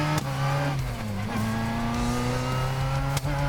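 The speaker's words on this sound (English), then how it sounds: "that little car is tearing up the track" A small car in the video game Piston Junction holds a loud, steady engine whine while racing around a track, its pitch shifting slightly through the run, with brief clicks and no talk.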